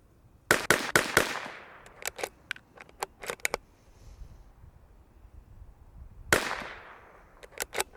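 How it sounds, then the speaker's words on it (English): Bergara BMR X .22LR rimfire rifle firing a string of sharp, close shots, several in quick succession, then a pause before a few more cracks, with faint clicks between. "I say we shoot 5 more of those."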